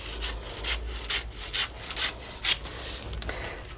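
Folded paper is cut along its fold to make piñata fringe, giving about seven close, rhythmic rasping strokes, each short and scraping, with no one speaking.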